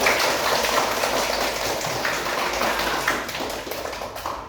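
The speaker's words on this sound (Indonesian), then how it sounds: "Tepuk tangan dulu." Students in a classroom clap their hands for a few seconds, a soft, fairly even wash of scattered clapping at moderate distance with no clear talk.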